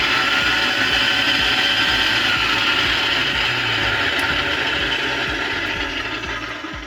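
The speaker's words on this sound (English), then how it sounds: "The motor is spinning, but the output gears aren't." DEXP MGL-2200S meat grinder running with a faulty gearbox, its motor spinning while the output gears stay still, giving a loud continuous mechanical whir with rapid ratcheting clicks that fades slightly near the end, with no talking.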